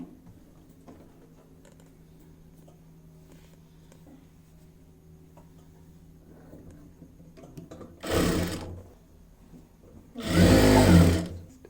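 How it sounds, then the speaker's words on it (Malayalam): A sewing machine stitches a fabric strap in two short, loud, close whirring bursts, the second longer than the first, after a stretch of quiet room noise. "ഞാനപ്പോൾ ഇതുപോലത്തെ വള്ളി ഒന്ന് സ്റ്റിച്ച് ചെയ്തെടുക്കുവാണേ."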